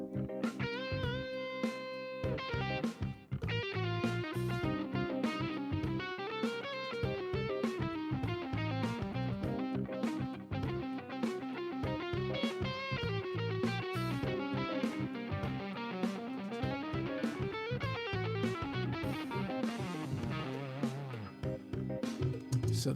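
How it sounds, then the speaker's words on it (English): A half-whole diminished scale played on guitar with a light overdriven tone, quick picked notes running up and down in repeated phrases, steady and fairly quiet with no talking. "the half whole diminished scale sounds like this."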